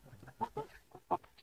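A Sonali chicken clucks as it runs across a farm, giving a few short, quick clucks in a rough rhythm at moderate distance. The clucks are fairly soft and heard alone.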